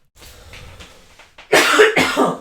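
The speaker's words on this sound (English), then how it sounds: "Oh man, I'm gonna cough again in a second." Two loud, harsh coughs in quick succession close to the mic, following a stretch of quiet background rustling.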